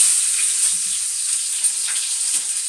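Maggi noodles fry in a pan with a steady, bright hissing sizzle, close and constant, with faint occasional clinks of stirring underneath.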